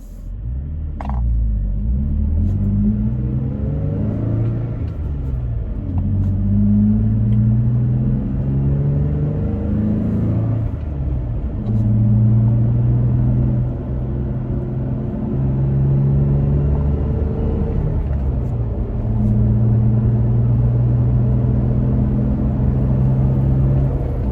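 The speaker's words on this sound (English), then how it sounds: "We're gonna get going now. I'm gonna run through the gears." A Toyota Tacoma pickup with a chopped exhaust pulls away from a stop and runs up through the gears, its low rumbling engine note rising and dropping with each shift, close and loud.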